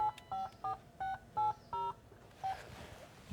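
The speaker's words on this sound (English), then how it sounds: "and then the phone does its self-test." A car phone runs through its self-test: seven short, evenly spaced electronic tones in quick succession, then a faint hissing background with no voices.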